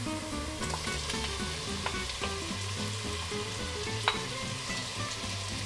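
Pancetta browning in a pan alongside diced vegetables, a dense, continuous sizzle and crackle with a few sharper pops and stirring sounds throughout.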